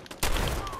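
Player's weapon firing in Fallout 4: a sudden close burst of gunfire after a brief quieter moment, then a sustained blast-like rush that fades slightly over less than a second.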